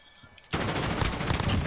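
Sustained gunfire in a video game 1v1 match erupts abruptly after a quiet moment and continues as a dense, loud, rapid stream of shots until the end.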